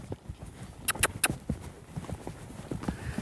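Hoofbeats of a lazy horse being asked to lope, an uneven run of soft thuds with a few sharper, louder strikes near the start, close by with no talk.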